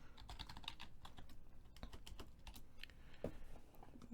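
Steady rapid keystrokes on a computer keyboard, a dense run of light clicks and taps at even pace, close and fairly quiet, with no voices.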